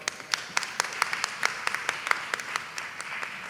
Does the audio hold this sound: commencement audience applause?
yes